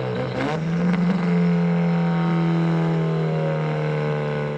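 A 500hp Mitsubishi Evo 9 engine revs hard, then settles into a loud, steady exhaust drone that holds close and strong throughout, with a brief crackle at the start.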